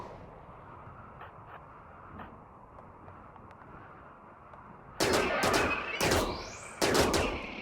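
Rifle gunfire in RimWorld arrives as a quick cluster of sharp, loud shots near the end, after a stretch of quiet game ambience with faint ticks.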